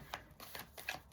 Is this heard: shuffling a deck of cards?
yes